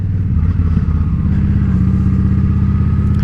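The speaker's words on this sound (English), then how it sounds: "You give it a little throttle, and you're in first gear." A motorcycle pulls away in first gear under a little throttle, the engine a loud, close, steady low rumble with a slight rise in pitch as it moves off.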